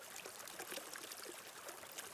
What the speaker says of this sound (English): as the water flows, as the stream gurgles and runs and splashes